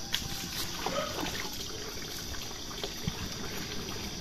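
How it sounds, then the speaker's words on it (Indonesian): Water pours into a container until it is almost full, a soft, continuous trickle and splash with a few small knocks, fairly quiet and with no talking. "Kita masukkan airnya sampai setengah penuh ya guys, maksudnya sampai hampir penuh"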